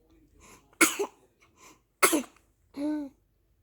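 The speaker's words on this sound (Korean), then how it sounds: "이연속 재채기" Two sharp, loud sneezes about a second apart, each a bursting breathy explosion, followed by a short voiced tonal sound, close and otherwise quiet.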